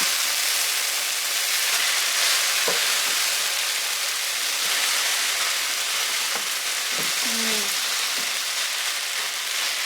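Breakfast potatoes crisp in a hot pan with a loud, steady, hissing sizzle that fills the whole stretch. A couple of faint clinks or squeaks break through near the end, and no one speaks.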